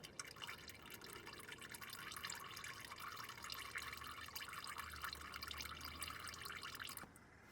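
Engine oil dripping from the drain of a 2020 Toyota Highlander V6 during an oil change, a steady close patter of fine drips and trickling liquid that runs continuously, then thins out abruptly near the end.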